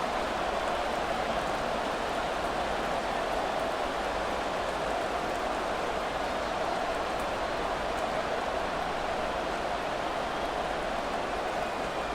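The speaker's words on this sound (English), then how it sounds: "The rain set to continue as we are underway in the second half." Steady rain falling on a football field in Madden NFL 24, a dense, even hiss of downpour that holds at the same level throughout with no voices over it.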